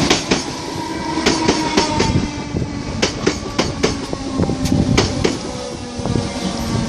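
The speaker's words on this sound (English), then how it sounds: "And now arriving in, we have the 1315 Merseyrail service to Southport." Merseyrail Class 508 electric train arriving at a station, wheels clicking rhythmically over rail joints with a steady rolling rumble and faint squeals, nearby and fairly loud without talk.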